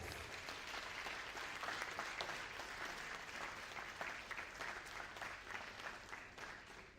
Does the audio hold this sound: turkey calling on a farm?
no